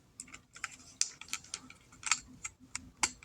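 Plastic parts of a Transformers toy from the Top Gun Maverick collaboration are folded back into place, producing a run of sharp, close plastic clicks and snaps at an irregular rhythm, with no talking.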